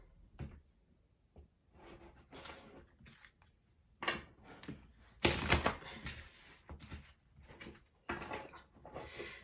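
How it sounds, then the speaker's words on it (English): Tarot cards being shuffled by hand, a run of crisp riffling bursts and soft slaps in an irregular rhythm, close and fairly quiet, with one louder flurry partway through. "I'm just wanting to shuffle really good before I start reading"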